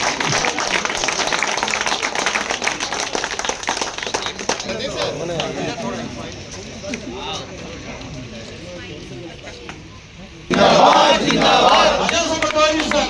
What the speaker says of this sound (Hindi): इस पर विशेष तालियां बनती रहनी चाहिए